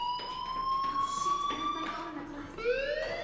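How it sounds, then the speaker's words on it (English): School fire alarm ringing in the video game Life is Strange, a loud sustained electronic tone sliding slowly upward, with a voice speaking briefly underneath. "Hey, do you hear that fire alarm?"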